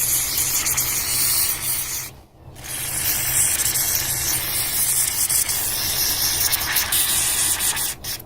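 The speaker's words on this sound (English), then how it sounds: "I think I'll just try to clean that out with a little WD." WD-40 is sprayed into a sticky door latch in a loud, continuous close hiss, cut by one brief pause before spraying resumes, with a short break near the end.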